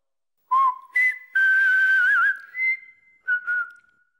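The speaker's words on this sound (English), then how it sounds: "Bumba has a whistling bird." A cartoon bird whistles a short tune of several bright, pitched phrases with rising and falling slides, loud and close, with brief pauses between notes and no talk over it.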